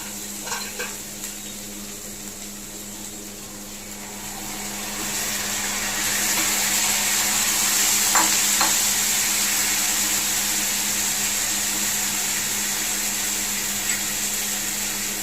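Chicken for an Andhra-style curry hits a hot pan and fries with a steady, growing sizzle, joined by a few scraping stirs against the pan and a low background hum, with no talking.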